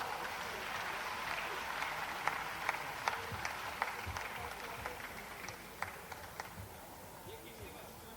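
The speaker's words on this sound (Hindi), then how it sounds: "आप सभी की जोरदार तालियों के साथ" A crowd applauds at the opening of an international science festival in Bhopal, a dense, steady wash of clapping that holds for several seconds, with a few sharper claps standing out.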